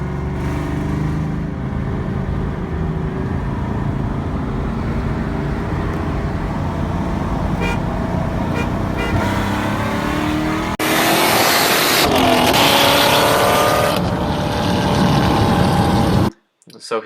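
A 2001 Ford Mustang Bullitt races a car running about 20 pounds of boost, engines roaring loud and steady with rising revs and a louder surge near the end, voices underneath, then a sudden cutoff.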